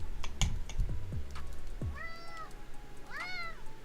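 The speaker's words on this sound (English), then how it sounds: "Can you hear this cat?" A house cat meows insistently several times, with keyboard typing clatter near the start and two drawn-out meows in the second half.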